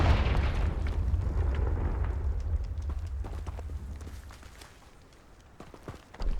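A Confringo blasting spell explodes in Hogwarts Legacy: a loud, broad rumbling blast opens the clip and slowly fades over several seconds into lighter crackling and game ambience, ending with a smaller rise.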